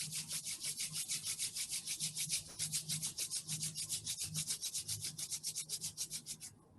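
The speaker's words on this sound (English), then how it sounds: "gently begin rubbing the palms together" Palms rubbed briskly together in a steady back-and-forth rhythm of about thirty strokes, close and clear in a quiet room, with no talking.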